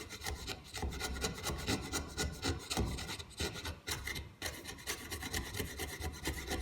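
A half round file rasps repeatedly across a wooden spatula, close and fairly loud, in quick back-and-forth strokes with a few short pauses.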